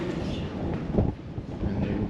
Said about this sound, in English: It's already windy in the stairwell.